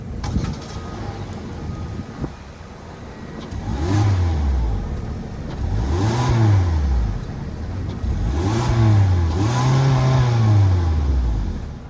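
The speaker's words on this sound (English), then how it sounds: "let's fire up this 2-liter 4-cylinder and hear how she sounds" A 2024 Hyundai Elantra Limited's 2-liter dual overhead cam 16-valve four-cylinder starts up, then revs three or four times in rising and falling sweeps, loud and close, with a steady idle between revs.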